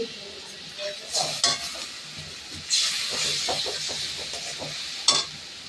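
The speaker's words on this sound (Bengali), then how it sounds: "মশলা কষা হয়ে গেলে চিকেনটা দেবো।" Spices sautéing in a pan before chicken goes in, a quiet frying sizzle punctuated by several sharp bursts of hissing and scraping stirs at irregular intervals, close and without talk.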